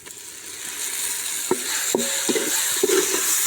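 Ginger paste sizzles steadily while being sautéed in a pan with softened onion, tomato and green chilli for home-style chicken biryani, with a few sharp spoon-against-pan scrapes and clinks as it is stirred.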